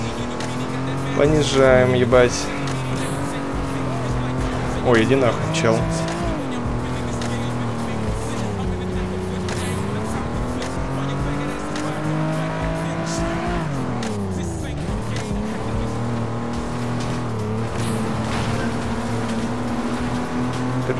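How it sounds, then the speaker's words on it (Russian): A race car engine in the FlatOut video game sputters and bogs as it revs, with a steady droning tone that dips and rises, brief tire squeals, and someone talking over it throughout. "мотор захлебывается, слышим, слышим"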